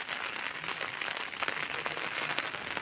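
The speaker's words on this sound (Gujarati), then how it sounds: "સખત એકધારો વરસાદ પડી રહ્યો છે." Heavy, continuous rain falls over a farming village, a steady dense hiss of drops with scattered louder patters, close and unbroken throughout.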